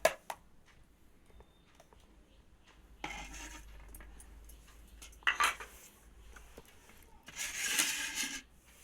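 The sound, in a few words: serving rice onto a plate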